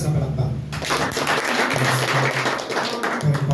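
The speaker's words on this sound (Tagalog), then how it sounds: "Malakas na palakpak." Loud applause from a church congregation, dense continuous clapping that fills the space for a few seconds, with voices mixed in.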